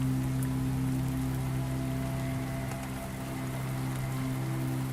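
Rain pours steadily through a stormy Kalbaishakhi night, a dense, even hiss of drops hitting surfaces with a low constant hum beneath and no break for the whole stretch.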